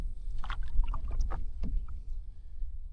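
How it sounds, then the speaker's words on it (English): Paddle strokes of a canoe on the Greenbrier River, soft splashes and water drips close by over a low outdoor rumble, with no talking. "But time to get back to paddling."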